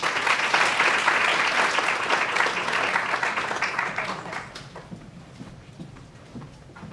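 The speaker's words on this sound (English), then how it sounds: "Please give her a round of applause." An audience at a hospital nursing stethoscope ceremony applauds a guest speaker, steady clapping that starts full and close, then thins and fades over the last few seconds.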